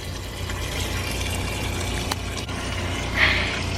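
A portable washing machine at a camper fills with water from a tap, a steady rushing flow running throughout with a brief louder splash near the end and no speech.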